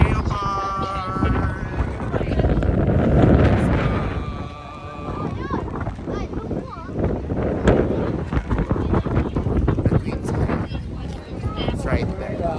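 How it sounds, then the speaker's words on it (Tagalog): Strong gusty wind buffets the microphone at a coastal geopark in Taiwan, a loud continuous roar that rises and falls, with people talking and calling out over it. "hindi na huminto yung hangin"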